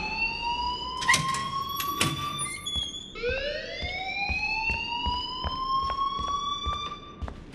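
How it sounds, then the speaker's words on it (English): A school alarm in the video game Life is Strange rings steadily, a loud electronic tone sweeping upward in repeated rising wails with sharp clicks and beeps layered over it, continuing alone without talk. "Leave Miss Caulfield alone and please turn off that alarm since that's your job"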